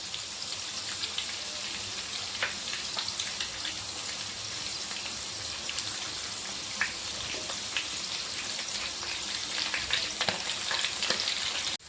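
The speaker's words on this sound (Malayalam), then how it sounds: "ഇനി നമുക്കിത് മറ്റേ സൈഡ് കൂടി ഫ്രൈ ചെയ്തെടുക്കാം" Prawns fry Kerala style in a pan of hot oil, giving a steady crackling sizzle with scattered sharp pops, close and continuous with no talking.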